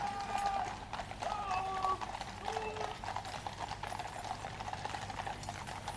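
Steady clip-clop of horse hooves moving at a walk in a royal procession led by a trumpeter on a grey horse, with a band or crowd murmur in the background and occasional distant voices.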